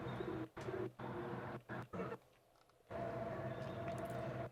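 A pigeon or dove outdoors gives soft, low cooing calls in a few short bursts over a steady background hum, fairly faint and with no talk.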